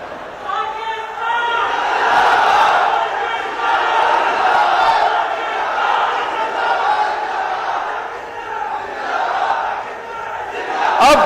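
A large crowd at a Pakistani political rally roaring and chanting a slogan together, a dense swelling wall of voices that rises and falls steadily, loud and sustained with a sharper outburst at the end.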